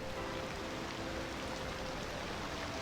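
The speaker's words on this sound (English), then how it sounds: "I can also make it pour like this, so we have like a very hard rain" Hard, pouring rain weather effect from a city-building video game, a dense steady hiss of heavy rainfall that holds at an even level throughout with no voices.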